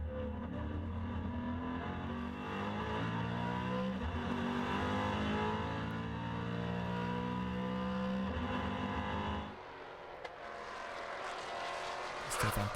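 Maserati Trofeo race cars, 2015 season, running neck and neck at the Red Bull Ring: loud, sustained engine drone with shifting revs and passing pitch sweeps, easing to a quieter, more distant hum near the end.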